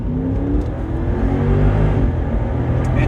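A Mercedes SL 550 with a 7-speed automatic in sport mode, its engine holding a loud, steady rev with a rising whir and deep rumble, heard from inside the car.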